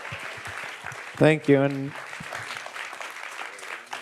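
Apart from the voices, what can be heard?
audience applause for the panel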